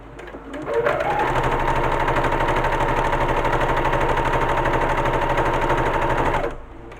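A sewing machine stitches a fabric tote bag in one steady, loud, rapid mechanical run of about six seconds that starts and stops abruptly, with no talk.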